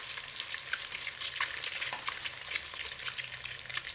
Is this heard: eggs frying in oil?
yes